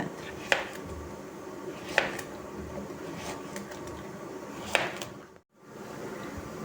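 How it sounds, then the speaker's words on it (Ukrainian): Three sharp knife chops slice zucchini into 1 cm rounds on a board at an even, unhurried pace, close by, with a soft kitchen background between them. "хвостики відрізала і нарізаю товщиною 1 см"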